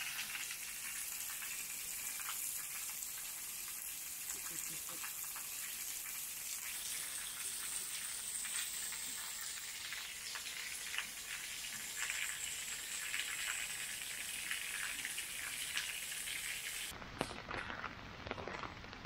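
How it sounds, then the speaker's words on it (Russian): Steady rain falls across a park in Vilnius, a soft, even hiss of drops that carries on unbroken and fairly quiet, with no voices. "А тем временем у нас начался дождь."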